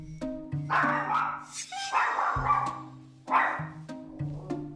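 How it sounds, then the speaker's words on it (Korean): A dog barks warily and insistently at a stranger staring at it during a temperament test, giving repeated loud, close barks and yips in an uneven rhythm, with faint whimpering between them. "무척 경계하며 계속해서 짖는"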